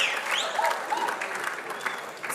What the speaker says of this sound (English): Strong cheers from the crowd